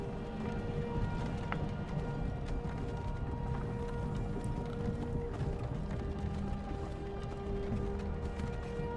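Steady horse hooves clip-clop in a continuous rhythm during the opening cart ride of the video game Skyrim, set against a constant low rumble of wheels and ambience, with no talking.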